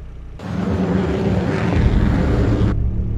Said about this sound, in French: Avion, avion!